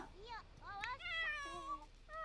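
Several cats meow in a home kitchen, a run of clear, rising and falling calls close by, overlapping one another in quick succession with a low room hum beneath.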